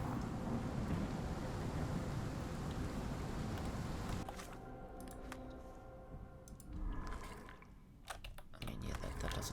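Torrential rain pours with rolling thunder in the video game Sherlock Holmes: The Awakened, a dense roar that thins midway, then rumbles back in heavy bursts and surges to full strength.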